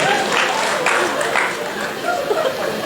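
Audience at a comic poetry recital claps in a loose, uneven patter mixed with chuckles and crowd chatter, with a voice talking over the applause throughout.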